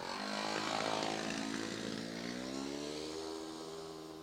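Race car at a pit lane brake test blasts off the start line, its engine roaring loud and close with rising harmonic pitch as it accelerates away, fading slightly toward the end.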